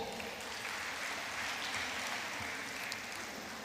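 An audience at a lawyers' women's forum claps steadily, a continuous even wash of applause that fills the room for a few seconds.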